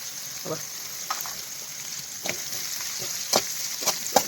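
Onions frying in a pan, with a faint steady sizzle under the whole stretch and a few brief louder crackles and pops scattered through it.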